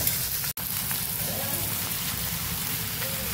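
Puffed rice tipped into a pan of sizzling spices, a steady crackling, rain-like frying hiss with a brief dropout early on, continuing evenly throughout.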